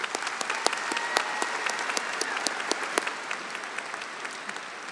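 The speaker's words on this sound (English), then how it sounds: "A round of applause for these recent graduates." Applause for recent graduates at a summer university commencement ceremony, a steady wash of clapping from a large, fairly distant audience with sharp individual claps popping out over the crowd.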